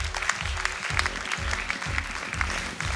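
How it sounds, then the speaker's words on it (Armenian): An X Factor studio audience applauding two sisters, steady crowd clapping over a thumping low beat of music pulsing at regular intervals. "ես պարզապես կխնդրեմ դահլիճին եւս մեկ անգամ այս երկու հրաշալի քույրերին ծափահարել"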